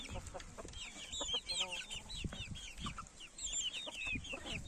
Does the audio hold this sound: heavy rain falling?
no